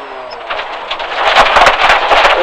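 A rally car on a Tennessee special stage running onto gravel, its engine droning as loose stones rattle and spray against the underbody, growing louder and busier toward the end.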